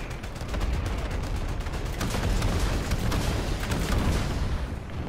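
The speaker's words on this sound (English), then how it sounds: "Here comes the airstrike." Airstrike explosions in the video game Modern Warfare, a dense, loud barrage of booms and crackling blasts rolling continuously before tailing off at the end.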